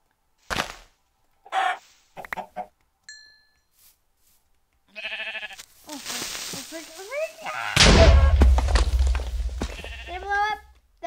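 Sheep in the Minecraft video game bleat in several short separate bursts, then louder overlapping bleats and other game animal sounds, close and clear.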